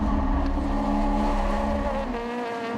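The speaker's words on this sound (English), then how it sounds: "Hurling the car across that loose surface." A racing car's engine drones and shifts pitch as it speeds over loose ground, with steady close road and gravel noise and no talk.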